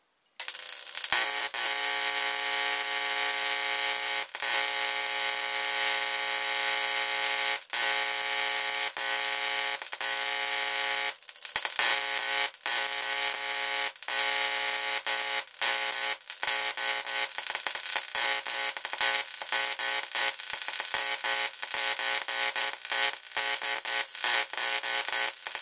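A homemade 60 kV high-voltage coil pair driven through a generic dimmer switch buzzes and crackles continuously, a harsh, steady electrical arc drone with sharp snapping clicks throughout.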